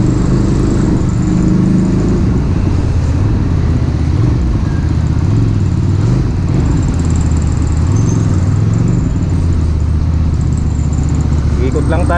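A QJMOTOR SRV 400 V-twin motorcycle engine hums steadily nearby, with its pitch rising and falling as it revs, under near-continuous talking from a man.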